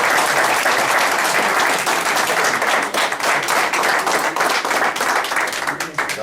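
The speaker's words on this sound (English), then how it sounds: "I want us to give her a round of applause." Loud, dense audience applause from a large gathering, sustained clapping that carries steadily throughout with only slight dips near the end.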